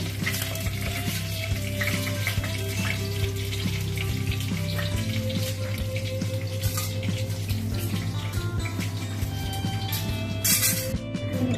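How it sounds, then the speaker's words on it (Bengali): Whole coriander, black pepper and garam masala frying in hot oil, a steady sizzle and crackle over a constant low hum, with occasional clinks and scrapes close by and no voices. "এবার গরম তেলের মধ্যে একটু গোটা ধনে, গোলমরিচ, গরম মশলা দিয়ে দেওয়া হচ্ছে।"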